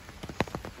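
Rain taps on a surface during an outdoor outing on an icy road, making a brief burst of soft, irregular patters and drips.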